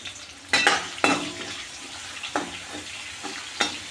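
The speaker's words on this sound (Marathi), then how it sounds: "त्याला छान आपल्याला तेलात परतून घ्यायचे।" Onion and green chillies frying in oil, with a steady sizzle and several sharp bursts as the pieces are stirred and tossed in the pan.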